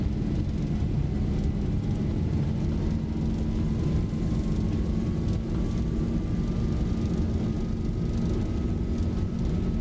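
Boeing 737 airliner engines spool to takeoff thrust in a flight simulator, a steady loud roar with a slowly rising whine over nearly ten seconds, no voices.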